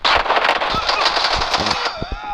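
Rapid automatic gunfire from enemy weapons in a shooting video game, a dense burst of fast shots sounding loud and continuous for about two seconds before tailing off.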